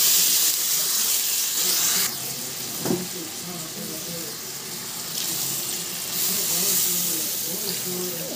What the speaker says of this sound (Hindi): अब इसमें हम पानी डाल देते हैं।